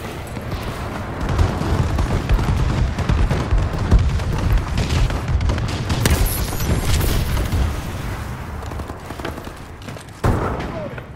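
A bombing run in the game Call of Duty: Advanced Warfare, with booming explosions and rolling gunfire filling a loud, dense battle scene, ending in one sharp late blast.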